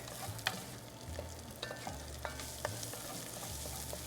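Two cloves of garlic sizzle steadily in a pot for corn chowder, a close continuous frying hiss with occasional light stirring clicks and no talking.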